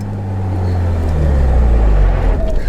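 A Nissan Patrol 4WD driving through sand gives a steady, close engine rumble that holds and swells slightly throughout, with no voices over it.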